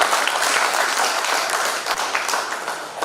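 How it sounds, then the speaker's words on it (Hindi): An audience at an annual Maithili seminar and youth award ceremony bursts into loud, sustained applause. The dense clapping fills the whole stretch and eases off only slightly toward the end. "जोरदार ताली पर होबे"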